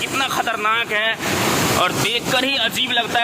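The flooded Kosi River rushes through the gates of the Kosi Barrage in Nepal with a constant, heavy roar and some wind buffeting, while someone talks over it.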